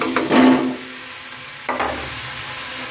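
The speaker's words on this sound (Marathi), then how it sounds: "छान असे मी नूडल्स परतून घेतलेले आहेत" Vegetable hakka noodles stir-fried in a pan give a loud burst of sizzling and tossing, a quieter steady hiss, then another sharp surge of frying as the noodles are turned.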